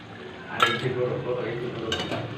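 Ground spices such as Kashmiri chilli powder, cumin, coriander powder and salt going into oil in a kadai, with a clink of a spoon against the pan and stirring scrapes close by over a low background.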